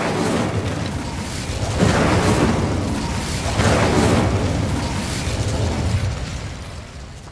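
In the Hogwarts Legacy video game, the Incendio fire spell goes off in a series of whooshing, crackling bursts that swell and fade over several seconds, fairly loud with no voices over it.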